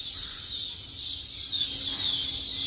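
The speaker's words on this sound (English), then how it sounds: "Beautiful birds chirping all around." Weaver birds chirping all around outdoors, a dense continuous high-pitched chatter of many birds at once, fairly loud and steady with no talking.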